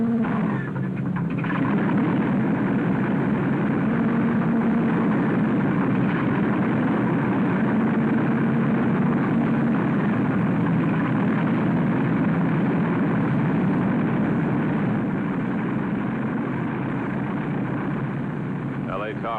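Airliner engines of a departing United flight roar steadily and loudly for a long stretch, a thick, continuous low drone with a voice talking over it.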